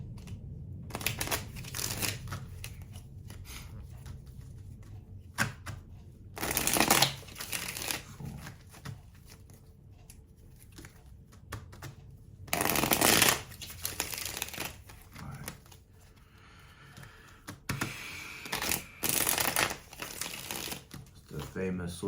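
Tarot cards are shuffled in bursts of crisp riffling and flapping, several separate shuffles spread across the stretch with quieter pauses between them and some soft talk in the background.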